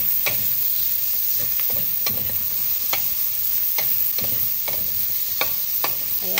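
Onions saute in a pan already used for frying potatoes and carrots, a steady, even sizzle close by with regular light taps and scrapes of a spatula stirring through.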